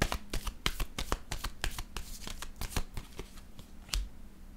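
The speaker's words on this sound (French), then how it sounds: "Je vais déposer une carte en cette zone." Tarot cards handled on a table in quick, crisp bursts of papery slaps and riffles, close and clear, with a sharper final card snap near the end and no talking.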